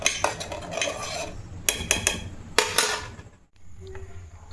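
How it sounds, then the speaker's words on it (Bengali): Milk being stirred in a pot while it heats and thickens, with sharp metallic spoon scrapes and clinks against the pot in irregular bursts, close and fairly loud, ending in a brief quiet. "দুধটাকে একটু থেকে থেকে নাড়িয়ে দিচ্ছি, একটু সামান্য এটাকে ঘন করব"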